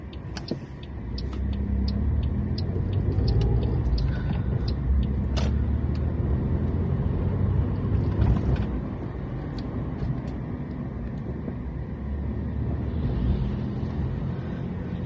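A car drives through town streets, its steady engine and tyre rumble continuous and fairly loud from inside the cabin, with no talk.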